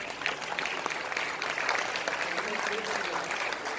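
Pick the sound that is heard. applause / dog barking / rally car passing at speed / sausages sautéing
applause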